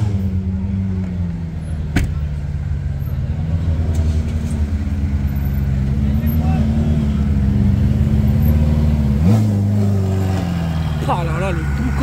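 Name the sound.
Ferrari 488 Pista engine revving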